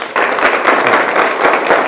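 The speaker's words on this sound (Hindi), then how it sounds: "एक बार यहाँ पर जितने साथी हैं जरा जोरदार तालियां बजाइए आप लोग।" An audience at a gathering of saints in Vrindavan bursts into loud, close, dense clapping that holds steady for a couple of seconds.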